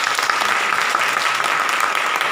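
A crowd at a business charity lecture gives loud, continuous applause, a dense even wash of many hands clapping from start to finish.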